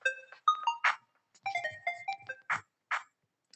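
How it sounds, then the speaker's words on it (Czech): A phone ringing in the Toca Boca World mobile game, a bright electronic melodic ringtone of stepped chirping tones and short bursts, repeating in clean, close pulses without voices. "Už to vyzvání."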